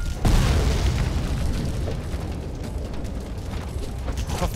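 Gunfire in the video game BloodRayne 2 comes as a loud opening boom followed by a dense, rumbling rattle of rapid shots and small blasts that carries on throughout.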